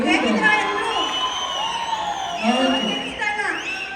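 Audience at a film pre-release event for Alpha cheers and whoops as the heroines come on stage, a dense, steady crowd roar with high shouts rising and falling, mixed with voices but little distinct clapping.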